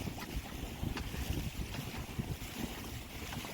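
A sailboat moves through water at around five knots, with steady wind noise and washing water close by, short and continuous without talk.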